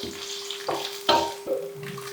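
Mustard seeds and coconut fry in hot coconut oil in a pan, with a few sharp, close crackles and pops spaced over a soft, low sizzle.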